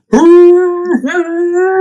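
A single close, loud howl rises and holds with a clear dog-like tone, dips briefly, then carries on as a second sustained wail, with no other sound around it.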